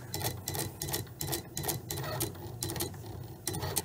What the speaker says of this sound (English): we're waiting for the machine to draw